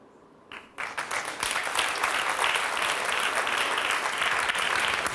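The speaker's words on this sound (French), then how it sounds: "Ce qui est amusant, c'est qu'ils applaudissent." An audience breaks into loud, sustained applause after a brief quiet start, the clapping dense and continuous to the end.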